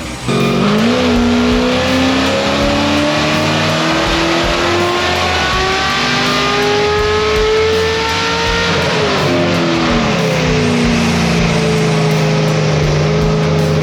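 A Nissan S13 making around 500 wheel horsepower roars on a dyno, holding a loud sustained rising rev with a brief dip near the middle before climbing again, close and dominant throughout with no talking.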